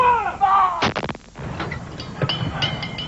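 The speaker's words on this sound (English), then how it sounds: "While London was marking the anniversary with a 41-gun salute" Artillery guns fire a 41-gun salute in London marking the Queen's anniversary; a loud boom rings out with rolling echoes, then further distant reports follow amid outdoor ambience.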